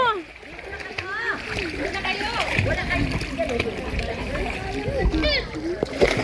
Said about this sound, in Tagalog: Uy, tumalon. Talsikan tubig.